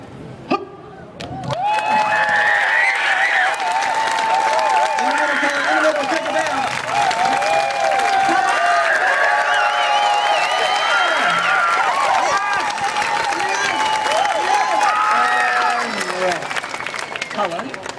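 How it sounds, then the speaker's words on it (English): A street festival crowd at Buskerfest on Ottawa's Sparks Street claps and cheers for a busker after a front flip dismount, a sustained dense roar of applause with voices carrying over it. "did you hear all the nice people clapping for you?"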